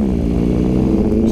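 A 2021 BMW F900 XR motorcycle engine runs steadily close by, a continuous low mechanical drone with firm harmonics that rises slightly in pitch toward the end, loud throughout with no voices.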